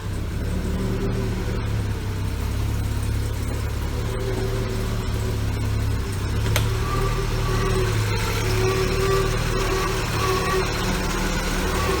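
A Mercedes-Benz W126 280SE straight-six engine idles steadily, a smooth, even low hum with a constant level and no revving, heard alone without talk.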